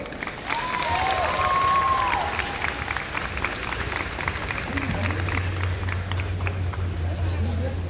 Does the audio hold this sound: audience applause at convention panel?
yes